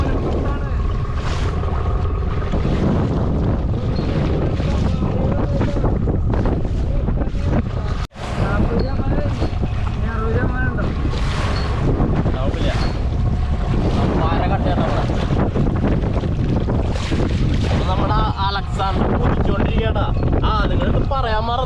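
Strong wind buffets a boat at sea off Kerala, a steady loud roar with gusts and wave wash throughout, with people talking over it.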